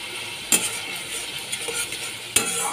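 Bhola fish masala sautés in a pan with mustard paste, green chilli paste, garlic paste, turmeric and salt, a steady close sizzle broken by two sharp spoon scrapes against the pan.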